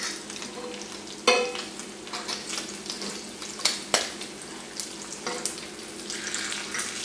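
Bacon strips sizzling and crackling steadily in a hot frying pan, close and clear, with sharp scrapes and clinks as a fork turns them over, and no talking.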